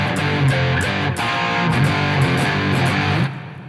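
Distorted electric guitar strums a steady shuffle rhythm, thick and loud, with chords repeating for about three seconds before cutting to a quieter ring-out; no voices.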